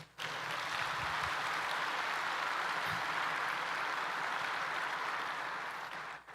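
A large church congregation at a congress gives sustained, even applause, a dense wash of many hands clapping that rises quickly, holds steady for several seconds and then tapers off.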